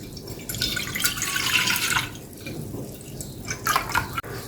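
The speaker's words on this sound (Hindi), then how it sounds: "तो यहाँ सबसे पहले मैं पैन में ले लूँगी 1 लीटर दूध।" A litre of milk pours into a cooking pan in a steady, close splashing stream for about two seconds, easing off, then a second short burst of pouring.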